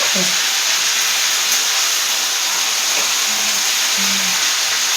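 Potato, cumin seeds and green chilli sizzle steadily in hot oil for a Bengali vegetable tempering, a continuous broadband hiss at close range with no talk over it.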